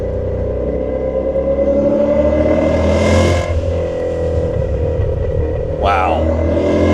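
A 2000 BMW E39 M5 engine accelerates under a driver's voice, the tone climbing steadily as revs build, with a brief break in power partway through and a loud, close rumble throughout.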